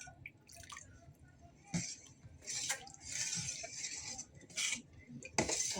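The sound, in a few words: mixing pani puri filling in a bowl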